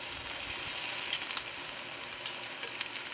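Bratwurst, fresh off the broiler, sizzling in a pan with a dense, steady crackle of frying fat, close and constant with small popping spits throughout and no voices.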